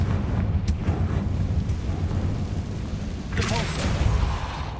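A Confringo fire-blasting spell explodes in the video game Hogwarts Legacy, a loud burst arriving near the end over a steady rumbling game soundscape, with a sharper earlier crack around the first second.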